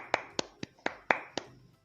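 Half a dozen sparse hand claps ring out at a P2K2 FDS group training session, sounding loosely spaced and fairly close before quickly fading to quiet.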